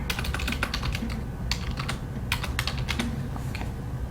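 Rapid, close clatter of computer keyboard keys, irregular bursts of clicks with brief pauses between words, steady and dry over a quiet room.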